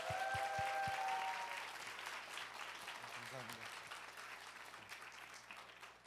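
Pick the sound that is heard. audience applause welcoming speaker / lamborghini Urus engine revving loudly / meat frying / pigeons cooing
audience applause welcoming speaker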